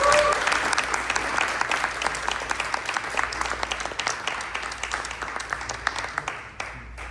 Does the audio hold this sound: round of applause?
yes